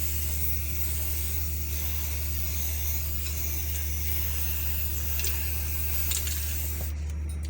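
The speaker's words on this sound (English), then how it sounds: "As shaking it, then you spray your fascinator." A can of spray paint hisses steadily as silver paint is sprayed onto a fascinator hat, a soft continuous spray close to the microphone with brief crinkly bursts near the end.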